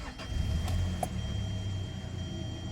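A warmed-up 6th-generation Hyundai Sonata engine idles quietly and steadily nearby, with a couple of faint clicks early on and no speech.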